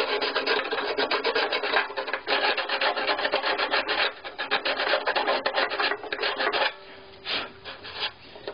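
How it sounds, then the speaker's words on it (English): Sandpaper block made of three glued sheets rasps steadily against the wooden edge of a violin sound hole, a close, continuous rubbing that runs in quick strokes, then slows into a few lighter, separate passes near the end. "here I've taken three pieces of sandpaper, glued them together just with a woodwork, you know, woodworking glue"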